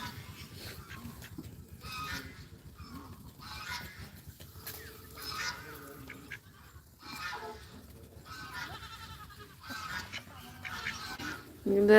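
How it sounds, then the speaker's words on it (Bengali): Ducks swimming in a canal, quacking and honking in a scattered series of calls at moderate distance over faint outdoor background. "ওই যে খালের উপরে আমাদের হাঁসগুলা বেশি দেখা যাচ্ছে না নদীতে সাঁতার কাটতেছে"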